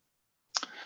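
A single computer mouse click lands after a stretch of silence, a quick close tick with a brief tail, quiet and alone.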